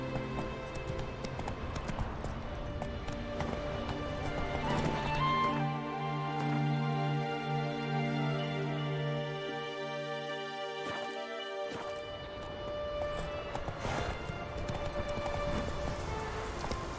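Hooves of Roach the horse in Witcher 3, a rhythmic clip-clop of trotting under game music, fading out mid-clip and then returning.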